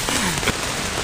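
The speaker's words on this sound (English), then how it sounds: "finally we get some rain" Rain falls on a canoe trip in Algonquin Park, a steady dense patter of drops on surfaces with no speech heard.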